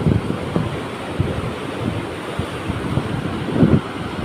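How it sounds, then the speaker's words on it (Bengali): Rough high-tide sea surf at Marine Drive, a steady broadband wash of breaking waves mixed with wind buffeting the microphone, with a louder surge near the end and no voices. "এখনও জোয়ারের পানিও অনেক উত্তাল, সাগরে কোনো ট্রলার বলতে কিছু নাই।"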